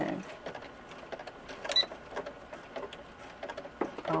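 A sewing machine stitches the seam of a short jacket for a third-scale ball-jointed doll, giving soft, uneven needle patter close by at moderate volume, with no voices over it.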